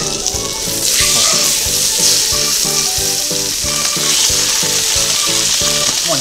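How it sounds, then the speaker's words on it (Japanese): Tofu steak sears in melted butter in a hot frying pan over medium-high heat, giving a loud, steady sizzle that runs throughout without any talking. "もうね、じゅーっと焼き目をつけていきますね"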